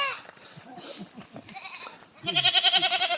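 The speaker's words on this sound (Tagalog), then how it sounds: "Wow, ayan ang goat." A goat bleats in a series of quavering cries, close and fairly loud, heard after some softer animal and background sounds.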